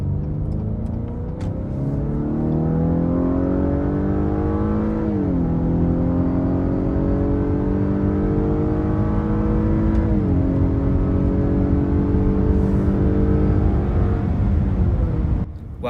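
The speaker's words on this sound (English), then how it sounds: "Let's go ahead and do an acceleration test and test out this 4-cylinder engine." A 2026 Acura RDX A-Spec Advance 4-cylinder engine accelerates hard, loud rising revs climbing through gear shifts, with the pitch dropping briefly at each change before climbing again, heard from inside the car.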